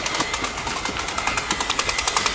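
A small airsoft drum magazine motor whirs steadily with rapid rhythmic clicking pulses, like a mechanical feed winding, close and fairly loud.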